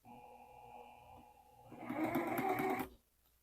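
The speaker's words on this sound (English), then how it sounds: "So then we're going to start sewing." A sewing machine stitches a scant quarter-inch seam through flying-geese quilt pieces, running in a short, steady, close burst of rapid needle chatter after a low motor hum, then stopping abruptly.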